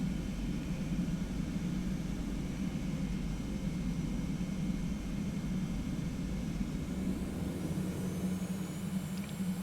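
Engines of a Boeing 717-200 in a flight simulator hum steadily in a cockpit, a constant low, broad roar that rises slightly near the end as thrust builds, with no talking.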